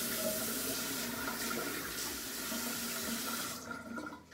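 Tap water running into a sink while face wash is rinsed off, a steady close splashing stream that cuts off abruptly near the end.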